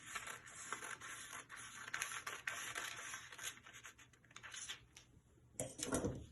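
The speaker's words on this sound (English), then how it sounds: "So I'm cutting the bust line for this pattern. I'll cut it now, but I won't cut it to the end." Scissors cut through fabric along the bust line of a dress pattern for a draped dress, giving a steady close scratchy rasp with short pauses and a louder snip near the end.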